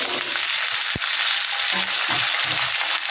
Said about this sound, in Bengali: একটু নেড়ে চেড়ে আমি কচুগুলো দিয়ে দিলাম